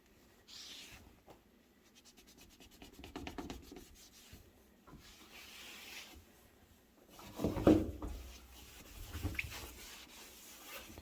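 A rag rubs and scrubs across the surface of a gas stove in a kitchen, with soft, uneven strokes that swell into a louder burst of rubbing near the end.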